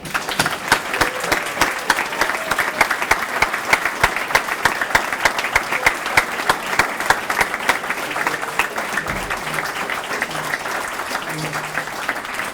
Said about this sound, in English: So please join me in applauding Mackenzie Weiser.